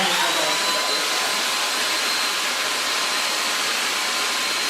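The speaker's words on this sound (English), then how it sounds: "So I'm gonna blow dry this first side." A hair dryer blowing on a sandy blonde wig makes a loud, steady, close airy roar with a thin high whine running through it, unbroken from start to finish.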